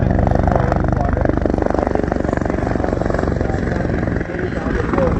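A Griffin helicopter flies at an air show, its loud rotor and engine drone filling the air steadily and close, with a voice speaking over it.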